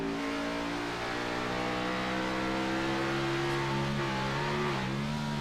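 A NASCAR Xfinity Series car's engine roars loud and steady from on board at Bristol Motor Speedway, holding a high droning pitch with slight rises and dips as the car runs with a cut tire.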